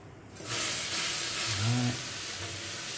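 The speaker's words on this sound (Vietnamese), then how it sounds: "Bật bếp lên rồi chúng ta cho rau vào xào." Fresh washed vegetables hit a hot pan and stir-fry with a loud, steady sizzle that swells after a moment, tossed once partway through, close up and alone.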